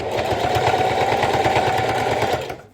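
Sewing machine running continuously as it stitches forward along the seam of a school pencil case, a steady close mechanical whir with rapid needle rhythm that stops abruptly at the end.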